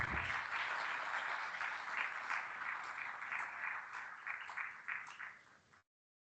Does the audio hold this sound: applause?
yes